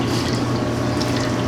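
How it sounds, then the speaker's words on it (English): Water is poured or run steadily for whole wheat pizza dough, a loud, continuous close-up liquid rush with no breaks. "So first thing to do is we add the water."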